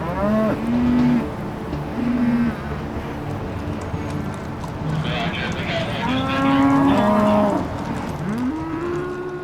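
A herd of cattle moos repeatedly on a highway near an underpass after a triple semi-truck collision, with several overlapping calls, some loud and close, others further off, over a steady rumble of traffic and activity.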